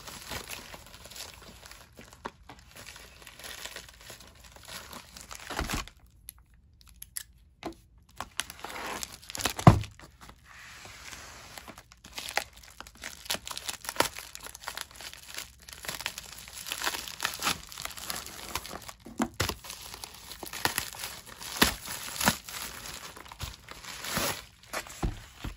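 Plastic wrapping on a pen package crinkles and tears as it is opened, with irregular close crackles and rustles in bursts and a few brief sharp snaps, and no voice.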